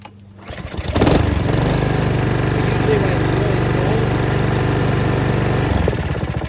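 A Honda HRX217 lawn mower engine catches after a pull and settles into a loud, steady close-up running drone, then dips slightly near the end.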